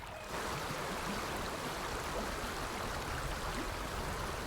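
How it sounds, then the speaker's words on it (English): Water rushes steadily through a leak in a beaver dam in the Alaskan wild, a loud, continuous broadband roar like a stream with no pauses and no voices. "The rush of water is like an alarm bell to a beaver."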